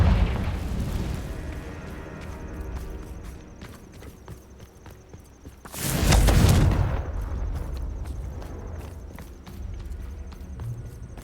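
A Confringo fire spell exploding in the video game Hogwarts Legacy: one loud, sharp blast midway, between quieter footsteps and background game sounds.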